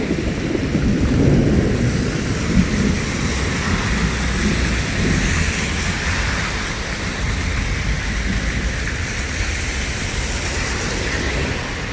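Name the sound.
thunder during heavy rain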